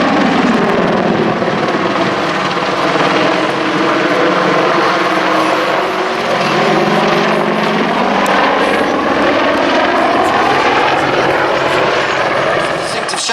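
A military aircraft flies a display at the Duxford Air Festival, performing a sweeping 270-degree wingover after a rocket-strike pass. Its engine roar is loud, close and continuous, with slowly shifting pitch as it banks past.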